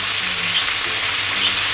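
Tomato pork cheese rolls fry in an uncovered pan, a dense, continuous, loud sizzle that holds steady at close range without pause and with no voices.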